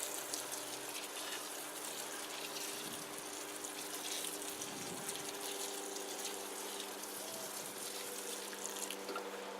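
Water runs steadily onto guinea pig manure in a compost pile, a soft continuous splashing and trickling heard from close range at low volume throughout.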